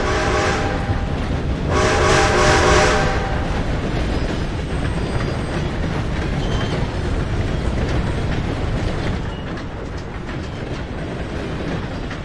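A train rumbles past in Red Dead Redemption II, with a loud broadband roar and clatter peaking early, then settling into a steadier, fading rumble as it moves on.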